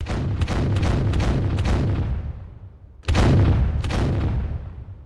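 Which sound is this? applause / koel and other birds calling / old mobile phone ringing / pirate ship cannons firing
pirate ship cannons firing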